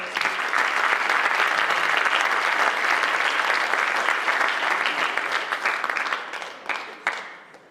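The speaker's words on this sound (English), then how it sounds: "So let's give them a big round of applause." Big round of applause at a school winter sports awards event, loud sustained clapping from a large audience that holds steady, then thins into a few scattered claps and fades out at the end.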